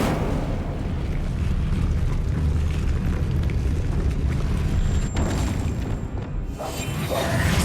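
Incendio fire spell cast in Hogwarts Legacy, a loud roaring whoosh and boom of flame that holds steady for several seconds before a brief crackling tail.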